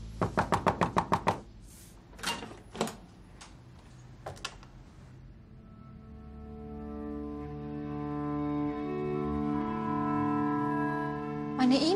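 Knocks on a door in a Turkish drama scene, a quick rapid burst of about eight raps followed by a few separate knocks, then a sustained low musical tone swells underneath.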